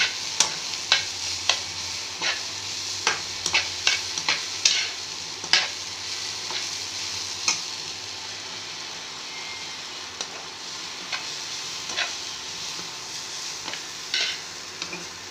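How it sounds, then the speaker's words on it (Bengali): Kalmi greens frying in a pan, a low steady sizzle with repeated sharp scrapes and taps of a spatula stirring, frequent early then sparser, close by. "কলমি শাকটা ভাজা হয়ে গেছে, কত সুন্দর ভাজা ভাজা হয়ে গেছে।"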